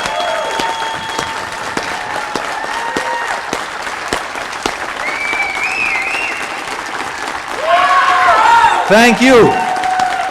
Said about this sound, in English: Let us give her a big applause.